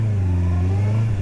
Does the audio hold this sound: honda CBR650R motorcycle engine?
yes